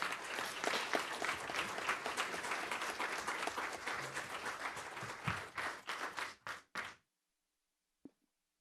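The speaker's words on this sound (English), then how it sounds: "Can we get a round of applause," At a county commission meeting, a roomful of people applauds for several seconds, a dense clatter that thins into a few last separate claps before cutting to near silence and one faint tap.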